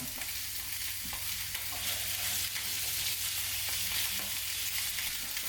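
Potatoes searing in olive oil in a pan, a steady close hiss and crackle of frying that runs unbroken throughout, with no talking.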